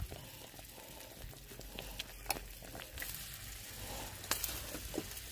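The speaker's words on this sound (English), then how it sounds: "I'm going to turn my water off because it's boiling good right now" Water boils in a pot on a stove while candles are being made, giving a soft, steady bubbling and light crackle with scattered small pops, quiet and close.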